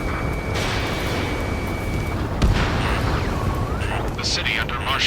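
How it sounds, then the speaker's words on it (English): In the Ace Combat 7 video game, distant gunfire and roaring jets echo through a city under martial law, a constant heavy rumble with occasional sharper bangs and rising tonal whines. "Gunfire and the roar of jets echoing through the streets."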